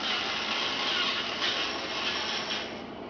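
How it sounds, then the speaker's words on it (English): Handheld drill spins a toothbrush as a homemade electric toothbrush, giving a steady close whirring buzz with a gritty rubbing texture that holds for about three seconds with no talking. "What did you make there with the drill and the toothbrush?"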